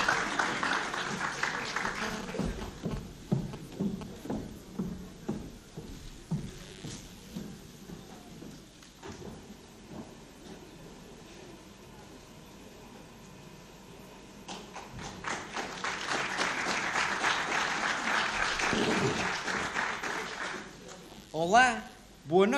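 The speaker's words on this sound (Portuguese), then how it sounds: "Uma salva de palmas para ele." Applause from a carnival monologue audience rises for a few seconds, following a stretch of talk and thumps, swelling moderately loud before fading back, with a voice heard before and around it.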